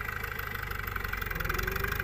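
A tractor engine idles steadily close by, a low, even mechanical chugging with a regular throb that holds constant from start to finish, with no voices over it.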